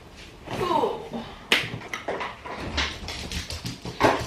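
A dog whimpers and scrabbles about indoors, with soft whines and quick tapping paw steps on the floor, close by, joined by brief human sounds.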